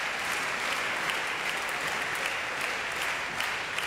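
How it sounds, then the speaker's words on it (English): Steady, dense crowd applause fills an arena at the 1997 IBF World Championships men's singles badminton semi-final, holding at an even level throughout. "Just waiting for the applause in the background to die down."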